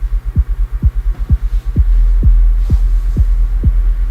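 Huge tuned electronic kick drums thump in a steady rhythm, about eight deep pitched-down booms roughly half a second apart, loud and close over a throbbing low bass hum that thickens midway through.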